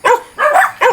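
Dogs give three quick, loud barks close by in a short, uneven burst.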